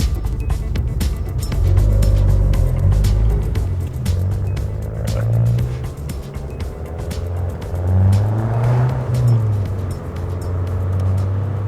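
A small sporty car's engine roars very loudly from inside the cabin, its revs swelling and easing in repeated surges over a steady throaty drone, with no talking.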